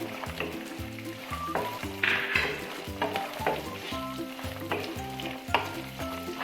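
Walnuts and other nuts crackle and sizzle steadily in hot oil in a pan, a close, continuous frying hiss with busy popping and occasional stirring scrapes throughout.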